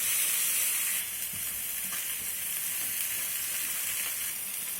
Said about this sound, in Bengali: মাছগুলো আমি উল্টে পাল্টে ভেজে নিয়েছি।